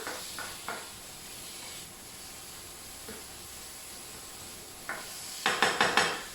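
Mushroom stroganoff with coriander moved around a pan, a soft continuous sizzle under a few light scrapes and taps of the utensil, quiet at first and then several sharper clinks near the end.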